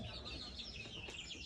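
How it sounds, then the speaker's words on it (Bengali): Grown hens cluck and murmur softly on a small poultry farm, faint and continuous with one slightly sharper call near the end. "এই হলো আমার বড় মুরগিগুলো"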